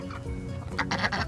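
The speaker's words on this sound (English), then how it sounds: "4 new silkies making a home in the chicken tractor" Four silkie chickens in a chicken tractor cluck softly over a low background hum, with a few short, close clucks grouped near the end.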